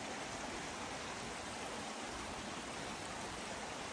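Gazak waterfall in Surxondaryo roars as a steady, dense rush of falling water, loud and unbroken throughout with no voices.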